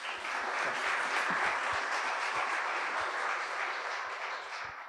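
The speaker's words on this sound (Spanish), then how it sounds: "Les dedicamos un aplauso." A theatre audience gives steady, dense applause for the panelists, a continuous wash of many hands clapping at moderate level from a slight distance, easing off slightly at the end.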